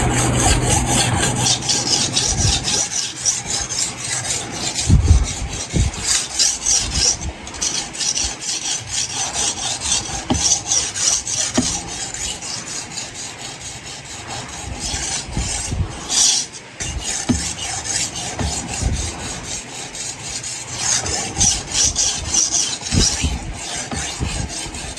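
A broad-bladed knife is sharpened on an Indian sharpening stone, with continuous gritty rasping strokes scraping back and forth close-up in a steady rhythm for the whole stretch.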